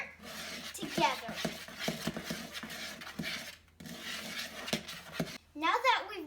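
Dairy-free, gluten-free oatmeal cookie dry ingredients (baking soda, salt, cinnamon) are stirred in a bowl, giving close, continuous scraping and rubbing with irregular clicks of the utensil against the bowl.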